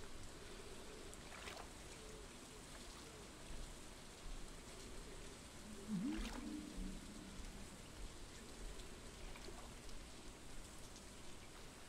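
Steady rain falls in the Stardew Valley farming game, a soft, even patter with faint splashes and a couple of brief louder drips, quiet and continuous without speech.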